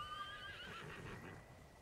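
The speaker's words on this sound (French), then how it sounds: "Cheval." A horse whinnies in the video game Ghost of Tsushima, a single high, wavering neigh over the first half second, fading into a soft trailing breath and faint hoof clatter, fairly quiet.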